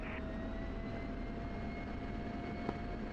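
A military aircraft taxis to a parking area at an airfield, a steady distant engine whine and rumble with a faint tonal hum and no other sounds.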